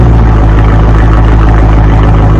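Loud, steady rumble from a 2017 Dodge Challenger ScatPack V8 with the mid muffler removed, rear mufflers retained, idling with a deep throaty low-end drone close up, no talk.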